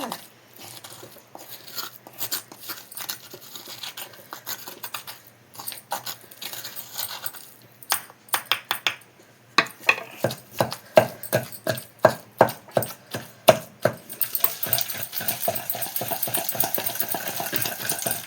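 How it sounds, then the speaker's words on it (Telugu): Gongura chutney is pounded in a stone mortar, with a steady series of sharp, thudding strikes that grow more frequent and regular, close and fairly loud. "కొంచెం కొంచెం వేసుకొని ఇట్లా దంచుకోవాలి."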